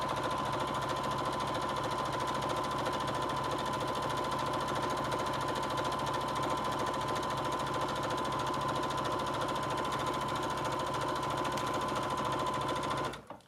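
A sewing machine runs continuously, stitching a quarter-inch seam down the long edge of fabric for a sling bag handle, a steady close mechanical whir and rapid needle chatter that stops abruptly at the end.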